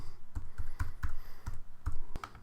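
Computer keyboard keys clack in a quick, uneven run of about a dozen close, sharp taps as a layer name is typed, with no voices.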